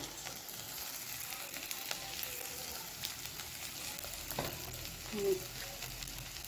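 Bhindi (okra) frying in a pan, a faint, even hiss of oil with occasional light stirring taps and a brief scrape near the end.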